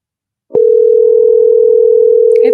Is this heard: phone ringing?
yes